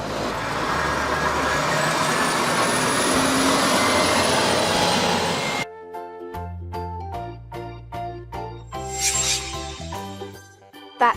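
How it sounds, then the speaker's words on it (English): An articulated dump truck engine drones loudly with a faint rising whine for about five seconds, then cuts off abruptly and upbeat music takes over. "Articulated dump truck, similar to a regular dump truck, but with an articulated joint between the cab and the bed"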